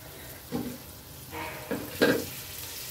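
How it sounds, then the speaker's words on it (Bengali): Bursts of frying as a spice paste of ground onion, garlic, cumin and dried and green chilies, with turmeric and salt, is fried in a pan for a pumpkin and prawn curry; a few short sizzles and stirring scrapes stand out close by against a quiet background. "এখানে হাফ মশলাটা দিয়ে দিলাম, দিয়ে মশলাটাকে ভালো করে কষিয়ে নেব 2 মিনিটের মতো"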